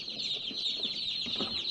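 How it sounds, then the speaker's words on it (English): Cuckoo Marans and Ameraucana baby chicks cheep continuously in a box, a dense, high-pitched chorus of overlapping peeps that stays faint and close, with no talking. "that's the Cucamarans, and on the other side is the Americanas"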